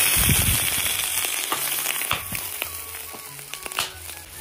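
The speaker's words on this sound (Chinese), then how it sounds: "炸一下锅，" Oil heated in a wok fries with a loud, steady sizzle and crackle that fills the whole stretch, and sharper pops and spatters stand out close up with no voices.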